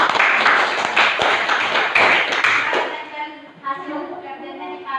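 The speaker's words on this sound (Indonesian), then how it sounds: "Kita tepuk tangan untuk kelompok 1." A classroom group claps for the first discussion group, a burst of sharp, fairly close hand claps lasting about three seconds, then a voice speaks as the clapping fades.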